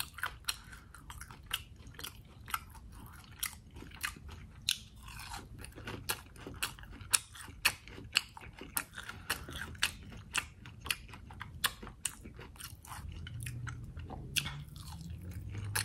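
Hooters buffalo shrimp dipped in ranch being bitten and chewed, close and quiet, a steady run of crisp crunchy bites and chews repeating throughout with no talking.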